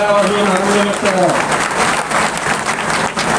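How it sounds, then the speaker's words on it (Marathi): Applause at the inauguration of a BJP public relations office, a loud, sustained wash of clapping from a gathered crowd, with a voice speaking over the opening second. "आपण सर्वांनी टाळ्या वाजवून आनंद व्यक्त करा."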